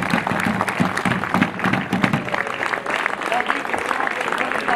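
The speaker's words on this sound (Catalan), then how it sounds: "Molt bé, un aplaudiment, sisplau." Audience applause at an outdoor homage festival in Capçanes, a steady burst of many hands clapping at close range, with scattered voices mixed into the crowd.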